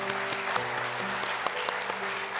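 A church congregation at a New Year's Eve service claps together, a steady, fairly loud patter of many hands with a few sharper claps, while a sustained organ-like tone hums beneath it.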